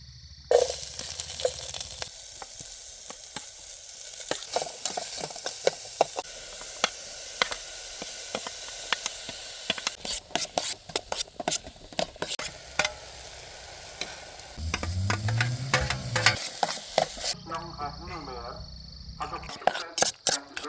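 Egg roast with sliced potato frying in a pan, a steady sizzle with scraping stir strokes and clatter throughout, close and moderately loud, with a few brief sharper knocks toward the end.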